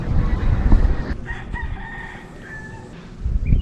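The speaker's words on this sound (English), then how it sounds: "That damn rooster." A rooster crows on an island in Culebra, a drawn-out call rising and falling over about two seconds, loud and fairly near, set between bursts of wind or handling noise.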